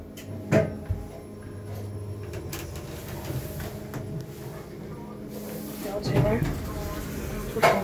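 A 2004 Kone Ecodisc lift's door operates at a library, giving soft clunks and a long sliding rumble with hiss, under intermittent speech from a person nearby.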